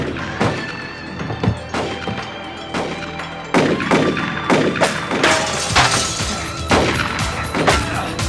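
Gunfire in a mid-1990s TV action series scene, with a rapid string of loud sharp shots and heavy thuds rattling off in bursts, close and echoing.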